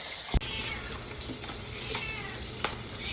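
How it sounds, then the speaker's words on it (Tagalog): A few short meows from kittens, close by, over a steady sizzling of fish frying in a pan. "nagngangawaan na naman ang aking mga kuting na aamoy nila yung isda"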